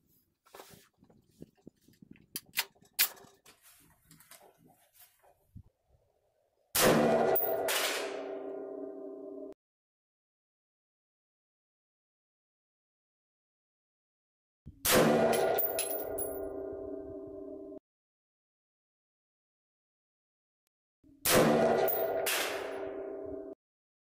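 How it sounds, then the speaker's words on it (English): A suppressed gun firing factory ammunition, three sharp muffled shots spaced several seconds apart, each with a ringing metallic tail, preceded by scattered handling clicks and clatter; close and otherwise quiet, no talking. "First of all, we will be shooting the factory ammunition."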